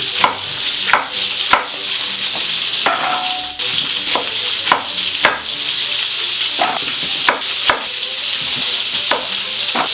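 Knife slicing white turnip in a kitchen for a pork roast garnish: a series of sharp, fairly close chopping strikes at uneven intervals over a steady background hiss of sizzling.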